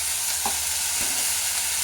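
Boiled dhokla batter setup in a hot pan meets a splash of added water, giving a steady, close hiss of sizzling that holds evenly throughout with a couple of faint clinks.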